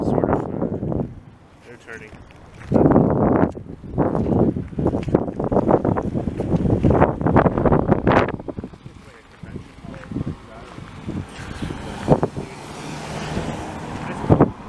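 Gusty wind buffets the microphone in loud rushing bursts while a person speaks over it on a sunny walk around Saint-Jean-sur-Richelieu, Quebec, the gusts easing toward the end.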